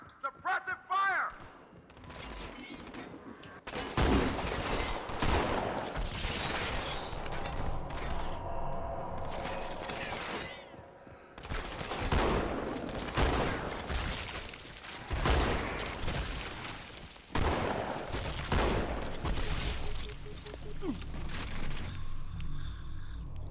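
Shotgun fire in the video game Halo: a sequence of loud, repeated booming blasts in irregular bursts among other gunfire and game effects, with someone talking over much of it.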